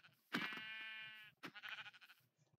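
Two wavering bleats from a Minecraft sheep, the first long and loud, the second shorter and choppy, heard alone at close range.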